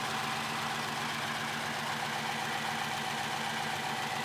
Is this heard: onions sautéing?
no